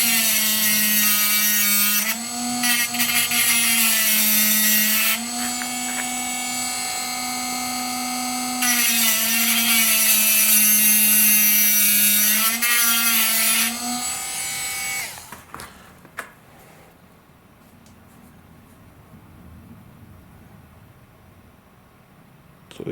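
Sanding or filing tapers the ends of a wooden servo boom for a Samba Prestige 2PK Pro F5J glider, a close, steady rasping in long strokes that stops after about fifteen seconds, leaving quiet handling noises.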